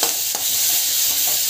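Tomato and coconut sautéing in a pan give a steady, close, bright sizzle with a few soft stirring scrapes, with no talking over it.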